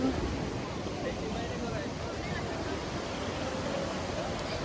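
Sea waves wash continuously at Digha beach in the evening, a broad steady surf roar with wind buffeting the microphone, while a voice talks faintly underneath.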